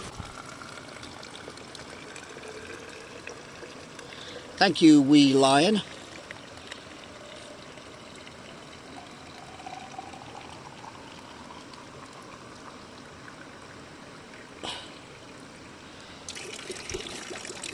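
Water trickles steadily from the spout of Moses Well in Scotland into a water bottle, a soft continuous stream heard up close beneath a brief spoken phrase and a few outdoor knocks.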